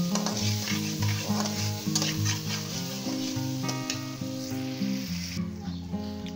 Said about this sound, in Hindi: और इनको भी हम मिक्स कर लेते हैं अच्छे तरीके से।